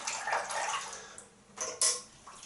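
Running water rinses soap off a person at an outdoor wash-down, a steady hiss of flow that dips around the middle, then surges in short bursts as the stream is moved.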